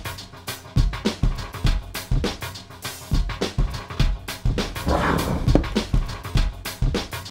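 Several dogs inside a car make a busy stream of short barks, yips and whimpers, close and fairly loud, repeating irregularly throughout with a brief rustling stretch midway.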